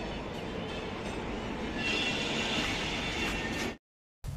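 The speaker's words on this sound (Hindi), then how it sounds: "ये बगल में रेलवे ट्रैक है, इसकी वजह से बहुत सारा आवाज आ रहा है।" A train passes on a railway track close by near Hazrat Nizamuddin station in Delhi, a loud steady rumble with rail noise that carries on for several seconds and then cuts off abruptly.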